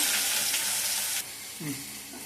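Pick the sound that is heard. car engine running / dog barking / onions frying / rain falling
onions frying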